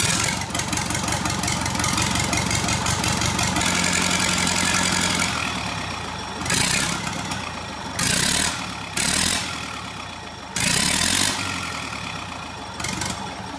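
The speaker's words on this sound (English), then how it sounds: "I couldn't just not try running the engine at this point" A rough 60-year-old tractor engine runs steadily with loud, uneven chugging and knocking, the revs surging in several bursts before settling back to idle.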